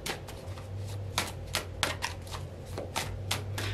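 Tarot cards are shuffled in quick bursts of crisp riffling flicks, close and fairly soft, with a low steady hum underneath.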